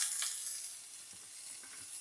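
Garlic frying in a pan over heat turned down slightly, giving a steady, moderate sizzling hiss that runs unbroken for the whole moment with no voices.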